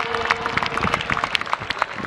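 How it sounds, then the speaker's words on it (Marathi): Applause from a crowd at a local cricket match after outstanding fielding, a steady wash of clapping that runs through the whole moment with scattered sharper claps standing out. "टाळ्यांचा आवाज आलाच पाहिजे"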